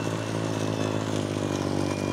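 A Ryobi battery-powered two-stage snow blower runs steadily and loudly throughout, a continuous close-up motor and auger whine with a dense, even drone and no pauses.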